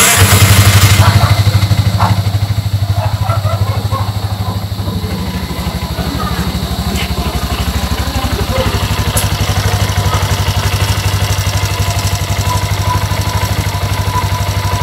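A Bajaj RE compact three-wheeler idles steadily and loudly up close after an ECU box repair, with a constant low rumble and clattering engine pulse throughout the whole run.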